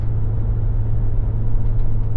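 A Foxbody Mustang LX hatchback drives along an old country road, its engine and tyres making a steady, loud low rumble from inside the car with constant road noise and no talking.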